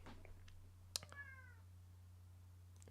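A cat lets out a short meow with falling harmonics, fairly faint against a steady low electrical hum, with a few small clicks around it.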